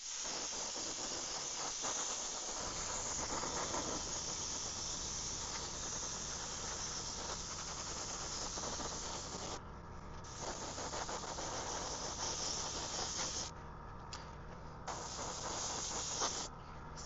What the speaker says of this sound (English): So I'm spraying with the airbrush out of the box